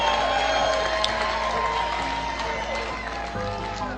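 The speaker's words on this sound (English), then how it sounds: "let's give him a round of applause" A large audience cheers and applauds a speaker, with whoops and shouts riding over a loud, continuous roar of clapping that fills the room and eases slightly toward the end.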